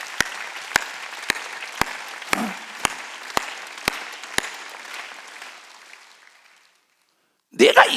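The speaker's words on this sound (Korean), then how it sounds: "깨달은 사람만 박수" A congregation at a Wednesday church service claps in slow, evenly spaced beats, about nine sharp claps half a second apart over a soft crowd wash that fades to silence before a voice resumes.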